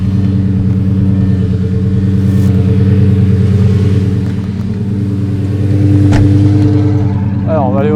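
A Lamborghini Gallardo Superleggera's engine drones loudly and steadily at close range, with exhaust rising and swelling in a couple of surges, and a brief sharp burst near the end.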